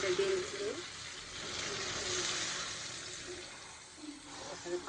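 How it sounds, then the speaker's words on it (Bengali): Hot water poured into a pot of braised chicken makes a continuous rushing splash of moderate loudness, with a faint voice briefly at the start and end. "তো আমি পরিমাণ মতো পানিটা দিয়ে দিচ্ছি।"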